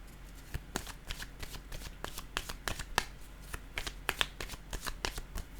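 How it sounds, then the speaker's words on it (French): Tarot cards are drawn and shuffled close up, a run of sharp, irregular riffles and taps of paper cards, quiet and alone with no talk. "piger une autre carte ici"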